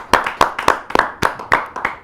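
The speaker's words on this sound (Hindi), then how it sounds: "एक बार पुनः जोरदार ताली के साथ हम स्वागत करें सभी का।" Sharp, loud hand claps ring out at a Hindi poetry gathering (kavi sammelan), about eight distinct claps in a steady rhythm roughly a quarter second apart, close and clear.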